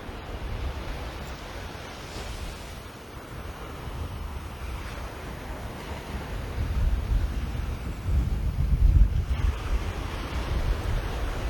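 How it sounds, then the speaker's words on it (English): Steady wind roars across a microphone over continuous surf breaking at Carlisle Bay beach at daybreak, a dense wash of noise that swells louder toward the end. "This wind is blowing chilly."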